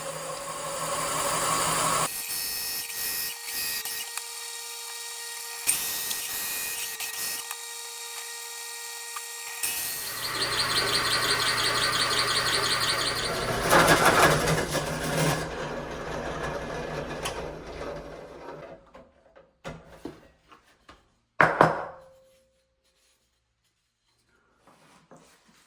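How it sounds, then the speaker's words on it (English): A 4-inch hole saw boring discs out of wood, a loud whirring drill cut in several bursts with short pauses, rising to a harsh peak, then a final short burst before silence. "Here I'm using a 4-inch hole saw to make 4 discs."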